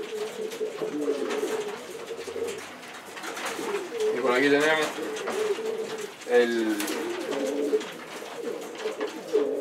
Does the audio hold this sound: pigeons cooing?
yes